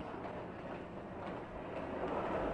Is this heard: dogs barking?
no